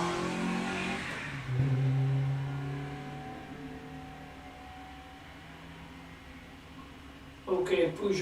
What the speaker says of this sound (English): Peugeot seems to be going better than it has up off the line there, quite clean